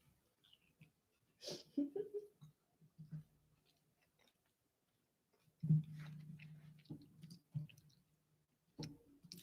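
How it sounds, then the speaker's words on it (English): Close, quiet chewing of Nerds Gummy Clusters candy, with a few sticky, squishy bites and clicks separated by silence, along with soft breathing near the microphone. "Can you hear me chewing?"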